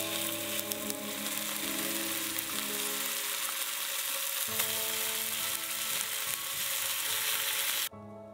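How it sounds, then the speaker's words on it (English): Bacon sizzling and crackling steadily in a hot frying pan in a high country hut, loud and close, with occasional stirring, cutting off abruptly at the end. "With the frying pan warmed up, it's time for breakfast, and you just can't go past bacon"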